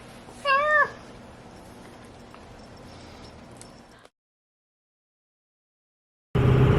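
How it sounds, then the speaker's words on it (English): A single cat meow, close and clear, over a low steady hum, then the sound cuts to silence before a loud burst of noise. "if you look up there, you see the kitty"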